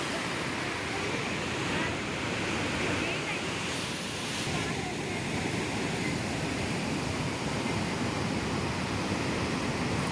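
Water roars steadily through an open gate at Nizam Sagar dam, a loud, continuous broadband rush with no pauses, heard close by.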